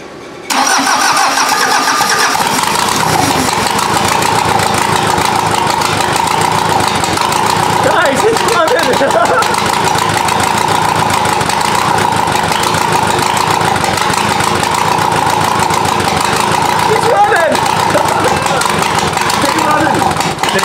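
A Volkswagen diesel engine cranks briefly, fires and settles into a loud, steady idle with a rough mid-range drone that holds close for about twenty seconds.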